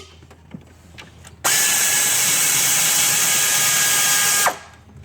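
Air ratchet backing out alternator bolts on a Ford Triton 4.6, 5.4 or 6.8 engine: one loud, steady whirring burst lasting about three seconds, with quiet shop background before and after and no talking.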